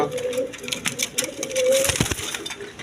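Putul Gorra pigeons coo softly and close by in short repeated calls, with light rustling and someone talking over them.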